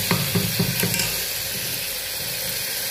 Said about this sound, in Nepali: अदुवा लसुन पेस्ट हालेर चाहिँ टमाटर मजाले भुट्नुहोस्